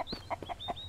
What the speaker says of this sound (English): I named the chicken Bobby.